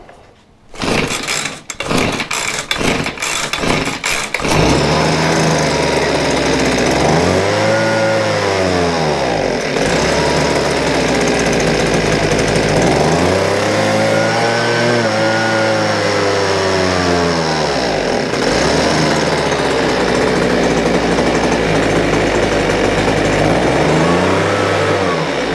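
A Husqvarna 125BV leaf blower, having had trouble starting, gets several quick pull-cord tugs, then fires and runs loudly up close, its two-stroke engine whining as it revs up and down in repeated waves.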